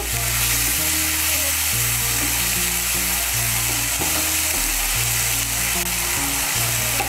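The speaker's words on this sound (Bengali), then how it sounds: "এই পেস্টটা এর মধ্যে দিয়ে দিচ্ছি। ভালো করে তেলের সঙ্গে মিশিয়ে নেব।" Paste of ginger, tomato and green chilli frying in hot oil, a loud, continuous close sizzle with stirring, no voices.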